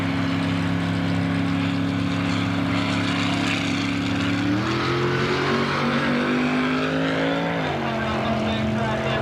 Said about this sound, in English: Dennis is driving a 1997 Ford Mustang.